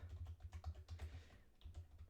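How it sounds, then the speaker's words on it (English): Quiet, close typing on a computer keyboard as a question is entered, a steady stream of soft key taps with a brief pause partway through. "I will just type in a question."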